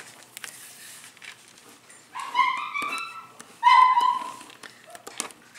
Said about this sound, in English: you probably heard my puppy dogs whining there for a second